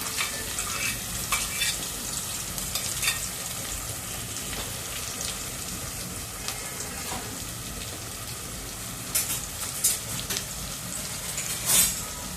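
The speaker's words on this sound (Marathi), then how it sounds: "हे मस्त पैकी तेलात फ्राय करून घेऊया" Chopped masala for chhole bhature frying in hot oil, a continuous close crackling sizzle with intermittent scrapes and clinks of a spoon stirring in the pan, no speech.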